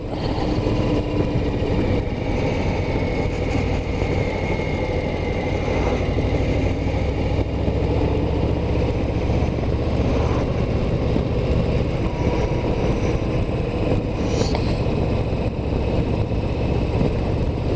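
A Harley-Davidson Low Rider ST rumbles steadily through a ride along the Val de Fier road, its engine drone constant and close, blended with rushing wind and no talking.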